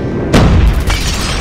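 An airstrike explodes in a video game, a single deep boom that hits sharply and then rumbles for about a second.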